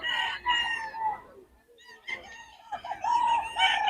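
A full stag gamefowl rooster crows at a gamefowl gathering in Bocaue: close, loud, harmonic crowing phrases with a brief lull between them, and faint background murmur.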